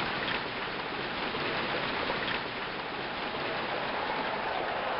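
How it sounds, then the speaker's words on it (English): Steady rain hisses evenly in a baseball video game's Atlanta ballpark, a constant mid-level wash of falling water with no pauses or other sounds. "the clouds have moved in quickly here in Atlanta. Here comes the rain."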